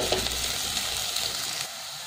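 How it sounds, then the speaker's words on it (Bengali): Chopped onion and minced garlic frying together in a pan give a steady, close sizzling hiss that runs evenly for about two seconds, with no voices. "রসুনটাও আমি পেঁয়াজের সাথে একটু ভাজা করে নেব।"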